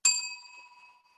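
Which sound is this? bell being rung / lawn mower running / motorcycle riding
bell being rung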